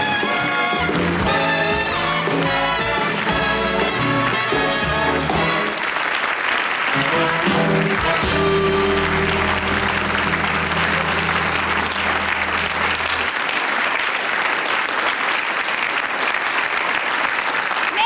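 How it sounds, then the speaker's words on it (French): Theatre audience at a Sacha Guitry play applauds, sustained dense clapping that fills the hall, first under closing music and then continuing loud on its own. "Applaudissements."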